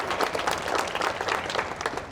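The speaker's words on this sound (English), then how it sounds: "can we get a round of applause to the panelists from this morning?" Conference audience applauding panelists, a brief burst of steady, dense clapping from a large crowd heard at moderate loudness without a break.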